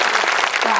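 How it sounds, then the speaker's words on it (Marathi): Audience at a Mandakini Mata temple renovation ceremony clapping loudly together, a dense burst of applause that fills the whole brief moment. "एका जोरात टाळी वाजून सर्वांचं अभिनंदन करू."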